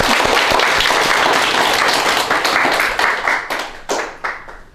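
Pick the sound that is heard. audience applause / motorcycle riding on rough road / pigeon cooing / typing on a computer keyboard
audience applause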